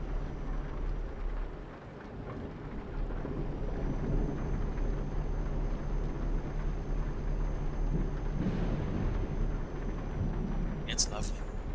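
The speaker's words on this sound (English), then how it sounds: "The sound of the rain, though, is just absolutely beautiful." Steady rain with low rumbles of thunder inside a trucking simulator game, a continuous loud wash throughout, with a brief sharp crackle near the end.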